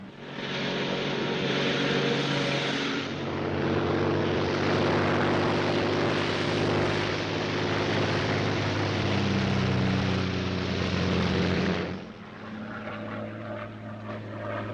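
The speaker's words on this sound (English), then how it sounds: "a Royal Air Force plane is waiting for us at a secret landing place" Propeller airplane droning in flight as a 1940s film sound effect, a steady, loud engine roar that swells in mid-clip and then drops to a quieter cabin hum.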